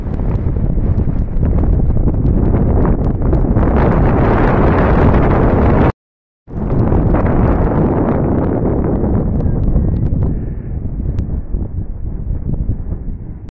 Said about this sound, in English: it is very windy at the moment and the wind is playing a part down here